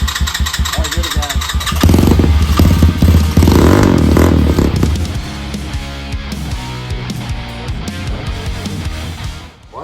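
A Chinese 250cc four-stroke motorcycle engine catches and revs loudly under throttle, a rough blaring roar that climbs then settles into a clattering idle, with people talking nearby.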